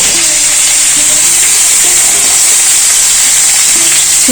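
Papaya, sweet potato and carrot hit hot oil in a pan with a loud, steady sizzle and frying hiss, broken by faint stirring clinks, no one talking.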